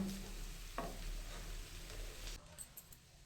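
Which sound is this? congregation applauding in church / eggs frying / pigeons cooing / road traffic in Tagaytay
eggs frying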